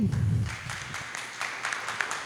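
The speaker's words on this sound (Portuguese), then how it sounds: "Vamos aplaudir?" Audience applause at a teachers' union election meeting, a steady patter of clapping that rises after a brief low murmur at the start and continues fairly evenly to the end.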